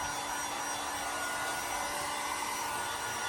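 A heat gun warms the metal spare wheel well of a Fiesta RS Turbo, blowing a steady, even roaring hiss throughout, close and alone.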